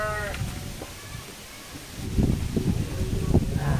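Sheep bleat in a rural pen in a remote village, a few calls near the mic, with rustling and people talking over them.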